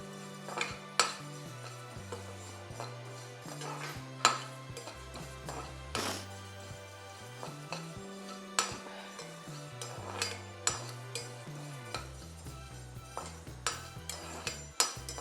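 White sesame seeds are roasted in a pan while being stirred, giving repeated clinks and scraping knocks of a utensil against the pan. Steady background music plays throughout.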